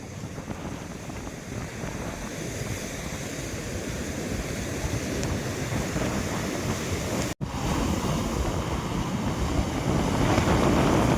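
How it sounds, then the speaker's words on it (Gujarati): A stormy sea churns against the rocky coast near a small cave at Uncha Kotda. Waves and wind make a steady, close roar that carries on throughout, broken once by a momentary dropout. "દરિયો ભાઈ તોફાને ચડેલો છે ને,"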